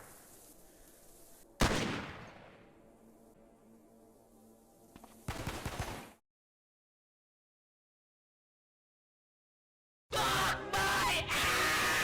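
Gunfire in the video game Cataclysm: Dark Days Ahead: a sharp shot followed by a long decaying rumble, a second burst of fire, several seconds of silence, then loud rapid harsh bursts close up.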